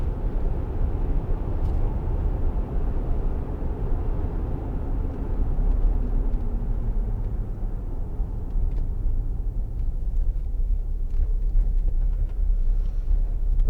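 A 2008 Land Rover Discovery 3 with a 2.7 TD V6, a two-ton HSE five-door, cruises along with a continuous low rumble of engine and road noise, steady and moderately loud, no one speaking.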